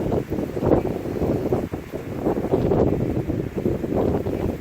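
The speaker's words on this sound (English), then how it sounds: "some rain, and a big gust." Storm wind gusts with rain during a severe storm, a steady, moderately loud rushing roar that swells and eases, heard alone without talk.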